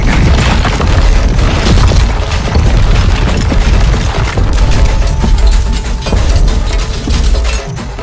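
A train explodes in Indian Bike Driving 3D, a loud, sustained rumbling boom with crackling debris and clinking fragments that keeps rolling for several seconds.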